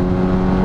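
A 2001 Honda Hornet 600 four-cylinder motorcycle engine revs up briefly under acceleration, a loud, close, steady whine rising slightly in pitch.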